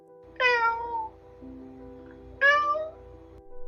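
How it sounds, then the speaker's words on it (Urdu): A cat meows twice, clear and close, each call rising then falling, with a quieter pause and faint low hum between them. "البتہ میاؤں میاؤں کی آوازیں تیز ہو گئیں۔"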